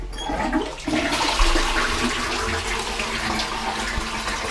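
A modern Japanese toilet in a Tokyo apartment flushes with a loud rush and swirl of water, then a steady refill stream runs on close by without any talk.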